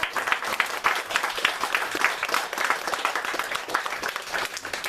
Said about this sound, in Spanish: Le damos un aplauso a la compañera.